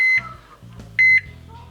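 A digital meat thermometer alarm on a UDS smoker sounds two short, sharp electronic beeps about a second apart, loud and close, with a low hum underneath between them.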